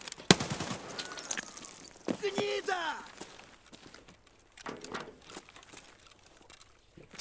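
AK-105 rifle shots in Escape From Tarkov ring out amid footsteps and rustling in a bunker, with a player talking over the action.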